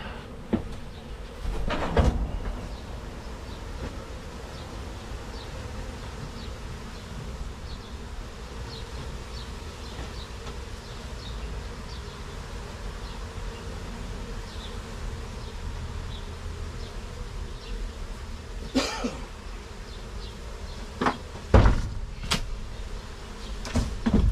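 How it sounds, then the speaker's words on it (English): A soft, continuous hum of buzzing bees in a children's play house fills the background, with a few sharp knocks and thumps nearby. "scooped a big cluster of bees"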